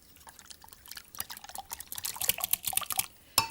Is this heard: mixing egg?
yes